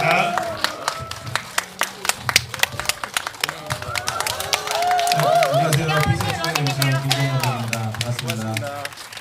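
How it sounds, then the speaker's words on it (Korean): A stage-greeting audience applauds as a film director and actors walk on, sharp scattered claps swelling into fuller applause while a voice talks over part of it. "큰 박수 한번 부탁드립니다"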